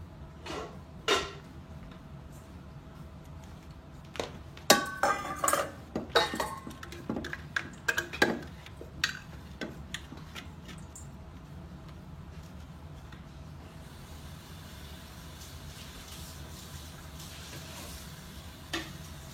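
A kitchen slicer gadget chopping onion, heard as a series of faint, irregular clicks and sharp taps of the blade against plastic, clustered in the middle and then trailing off into quiet room tone.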